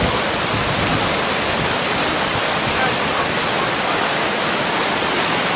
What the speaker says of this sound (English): This is the waterfall. Whoa! This water is coming down fast and hard.